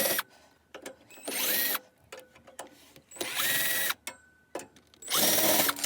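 A power drill backs out the four screws holding the converter panel on a 1994 Roadtrek 190 Versatile camper van. Three close, loud whirring bursts are separated by short pauses, with faint clicks and handling noise between them.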